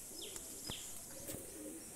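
Pigeons on a rooftop loft give faint cooing calls mixed with a few thin chirps, quiet and somewhat distant over a constant hiss of background noise.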